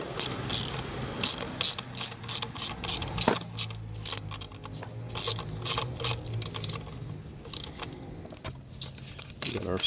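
Hand ratchet snugging a 10mm bolt onto a transmission stud during a 2013-2016 Ford Escape 1.6L turbo and 6F35 transmission swap: rapid, close clicking bursts in uneven runs, with faint shop noise between strokes.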